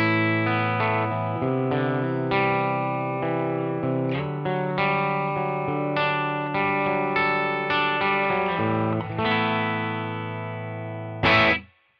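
A clean electric guitar on the bridge pickup of a Frank Brothers Arcade, with a brighter, thinner edge, plays chords and single-note runs, then ends in a short burst of noise.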